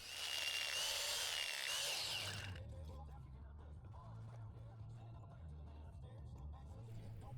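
A loud, high-pitched hammer drill with a 1/4 inch bit grinds into a concrete foundation continuously for a couple of seconds, then stops, leaving a low rumble and quieter background noise.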